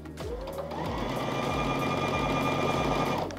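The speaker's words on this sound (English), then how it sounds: "So I can still sew and stitch." A sewing machine stitches fabric in one continuous run of rapid, even mechanical whirring and ticking, close and clear, starting up and stopping after about three seconds.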